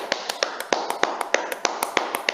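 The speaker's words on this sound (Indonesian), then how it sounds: "Kasih tepuk tangan buat Charles." A small audience clapping, sparse individual claps with a loose irregular rhythm, close and moderately loud, without other voices.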